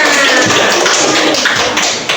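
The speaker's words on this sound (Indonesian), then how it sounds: "tepuk tangan buat temannya" Classmates in a school classroom clap for a student, a dense burst of hand claps that stays loud and then tapers slightly at the end.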